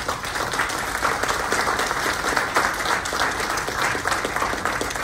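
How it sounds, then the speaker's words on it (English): A residents' association meeting audience applauds the volunteers, liaisons and committee heads with a full, even round of clapping that holds steady for several seconds. "I think we should give a round of applause to all the volunteers, all the liaisons, and all the committee heads"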